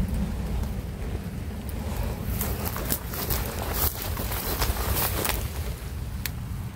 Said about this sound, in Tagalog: Nabutan talaga kami ng ulan mga idol